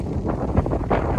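Strong wind buffets the microphone in rough, gusty bursts during a fly-in moose hunt, a close, muffled rumble lasting just over a second with no one speaking.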